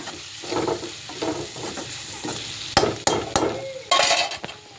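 Flat beans (avarakkai) sizzle and crackle steadily as they fry in a hot pan, with repeated scraping and stirring strokes and a few sharp clinks of a utensil against metal.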